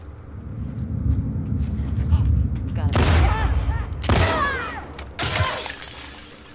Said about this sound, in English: Where'd the gunshots come from